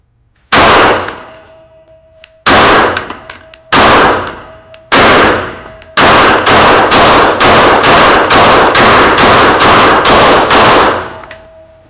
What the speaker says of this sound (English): let's go ahead and run the magazine of 115